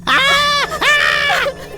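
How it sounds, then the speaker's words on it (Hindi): Someone shouts loudly in a drawn-out, strained cry during a heated confrontation in a dramatic film scene, two long sustained bursts with a brief break between them. "अगर ऐसा है तो मैं भी चिल्लाता हूं।"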